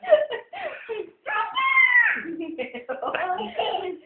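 A young child imitates an elephant with her voice, a series of squealing, wavering vocal trumpets and whimpers in short bursts, close and fairly loud.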